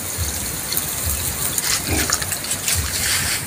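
A little water is poured into a pan of cooking pork adobo, making a steady gushing splash over a sizzle, close and moderately loud, stopping abruptly at the end.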